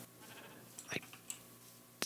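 Sheep bleat in the video game Minecraft, with a few short, soft bleats scattered over a quiet background.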